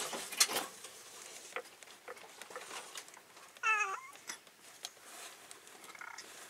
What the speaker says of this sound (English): My cat Drake wants to say hi to you guys